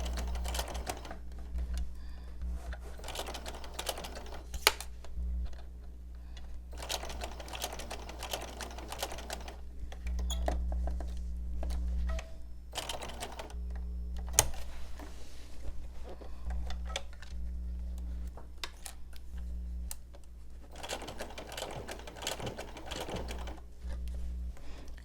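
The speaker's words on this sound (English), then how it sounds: "So then we're going to sew right up to that corner, and that's where we're going to pivot." A sewing machine stitches flanged quilt binding up to a corner in quick, rapid bursts of needle chatter with short pauses between runs, close and steady, with no voices.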